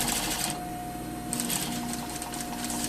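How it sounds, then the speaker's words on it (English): Sewing machine running a pant crotch seam about one centimeter from the edge, a steady close mechanical whir that rattles faster near the start and again after a short softer stretch. "sewing at 1 centimeter from the bottom of the crotch"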